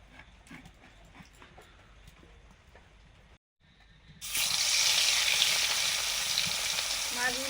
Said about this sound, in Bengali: ভাজছি